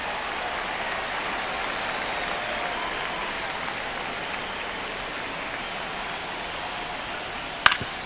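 A stadium crowd in the baseball video game MLB The Show 25 keeps up a steady, dense roar of cheering and clapping, with a sharp crack of a hit near the end.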